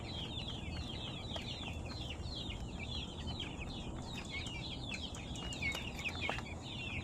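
Seventeen-day-old Texas broiler chickens chirp and cluck continuously in a warm coop, with a steady dense chorus of peeping over a low background hum; no one speaks.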